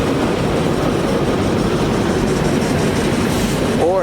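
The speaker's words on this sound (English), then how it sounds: "Hope you can hear me because of this train." A train passes close by with a loud, continuous rumble and rattle that holds steady throughout, and a brief voice surfaces near the end.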